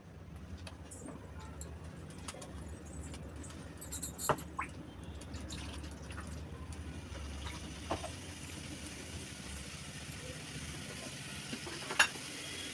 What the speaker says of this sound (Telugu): ఇందులోని చికెన్ వేయి వేసుకోగానే మనం కొంచెం సాల్ట్ అయితే వేసుకోవాలండి